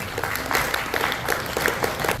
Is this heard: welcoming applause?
yes